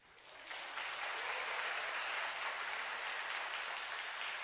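A concert audience at a Valentine's Day musical and opera show breaks into applause that quickly swells and then holds as a steady, dense clapping.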